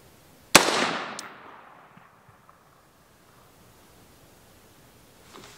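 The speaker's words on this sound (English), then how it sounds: "let's take a couple shots and see how it does" A Ruger American rifle firing a 50 grain VMAX round while being sighted in at 50 yards: one loud, sharp crack followed by a long fading outdoor echo and then quiet.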